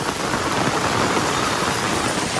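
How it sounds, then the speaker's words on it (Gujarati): Heavy monsoon rain pours down on a flooded street in Gariadhar, a dense, steady roar of drops that continues unbroken with no voices. "અતિ ભારે વરસાદ ગારિયાધારમાં."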